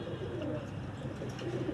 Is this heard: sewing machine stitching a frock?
no